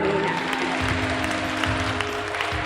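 A church congregation applauds during a service, a dense, steady clapping from a crowd that holds for a few seconds.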